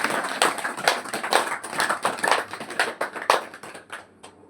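An audience at a satsang gathering in Nashik, Maharashtra clapping in welcome, a dense patter of many hands that swells and then thins out toward the end, with no voices.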